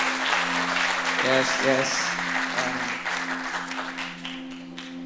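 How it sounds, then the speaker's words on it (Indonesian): Church congregation clapping after a music and band class session, moderate applause over sustained instrumental tones, with a brief spoken word and some sung or voiced notes on top, fading toward the end. "Yang merasa diberkati bisa kasih tepuk tangan"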